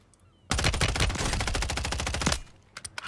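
Rapid automatic gunfire in Call of Duty: Modern Warfare III on Rebirth Island, a loud dense burst of about two seconds that cuts off abruptly, followed by a few faint scattered distant shots.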